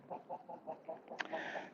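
Backyard chickens cluck in a steady rhythmic series of short calls, then a rooster's crow rises over them near the end, fairly close in an outdoor yard early in the morning.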